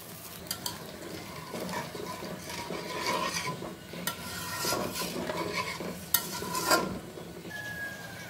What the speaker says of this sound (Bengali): দেখো ঝোলটা ফুটে উঠছে